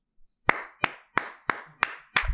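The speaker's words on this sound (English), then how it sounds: "Why are you clapping" Six sharp hand claps in a steady, quick rhythm, close and clear, with no talking.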